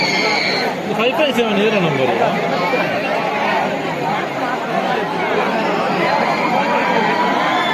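Crowd chatter at a KRS Dam bus stop forms a steady, mid-distance babble of many voices throughout, with a nearer speaker talking over it.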